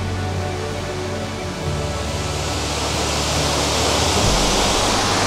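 A waterfall pours in a steady, dense roar of rushing water that stays loud and even throughout, with no voices.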